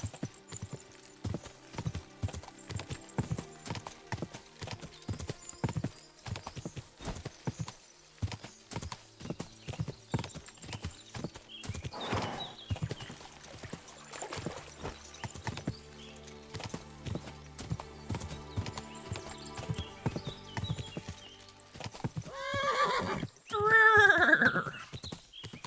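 A horse in Kingdom Come: Deliverance II gallops with a fast, continuous clip-clop of hooves, and a whinny comes near the end; a voice speaks faintly at moments.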